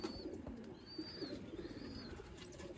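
Soft cooing of a male Sialkoti pigeon over a steady background hum, with a few faint high chirps; no talking.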